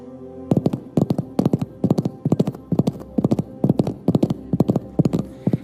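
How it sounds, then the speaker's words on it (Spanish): Horses' hooves strike sand in a steady, rhythmic run of clustered clip-clop beats, loud and close, continuing evenly for several seconds with no voices. "Son los cascos de caballos en la arena."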